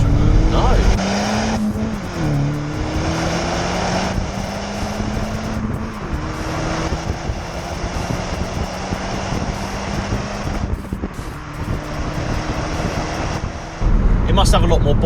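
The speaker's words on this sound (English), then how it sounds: "just cutting that one out, that's it's created a little bit more exhaust note, but nothing crazy and no drone" Vauxhall Corsa E 1.4 turbo with its exhaust back box deleted, a steady droning engine note that rises in pitch through a gear change and keeps climbing, heard loud from inside while driving, ending in a sudden louder burst.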